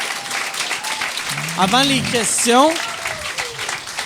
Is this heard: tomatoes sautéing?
no